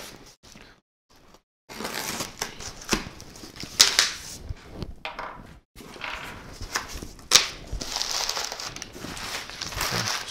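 Cardboard box packaging of 3D printer filament being unpacked, with close crinkling and rustling bursts and a few sharp handling clicks, broken by short pauses.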